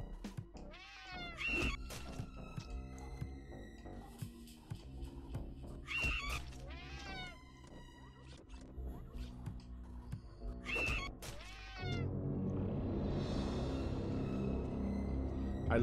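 Cat meows and caterwauls in the video game Friday the 13th: Killer Puzzle, several drawn-out cries spaced a few seconds apart over background game music.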